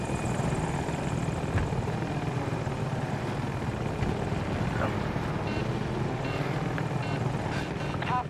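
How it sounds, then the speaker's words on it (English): Video game helicopter rotor near a power line, a steady loud drone of blades and engine that continues without a break, with scattered faint clicks over it. "My chopper blades are invincible against this power line"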